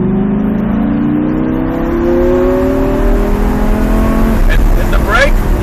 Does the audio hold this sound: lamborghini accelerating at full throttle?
yes